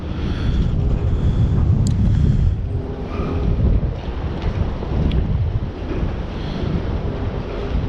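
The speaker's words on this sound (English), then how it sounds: "They can probably hear it's quite windy this morning." Strong morning wind on the coast buffets the microphone in steady low gusts, with a faint wash of sea behind it and no voices.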